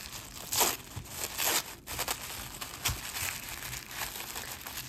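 Crinkly plastic packaging is handled and torn open close up around vintage mystery jewelry beads and brooches, with uneven bursts of crumpling and crackling and no talking.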